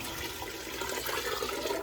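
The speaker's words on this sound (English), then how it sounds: "I'm going to pour this carefully. It's probably still going to spill a little bit" Chicken broth pours steadily into a soup pot, a continuous close, gushing liquid rush that stays fairly even and soft throughout.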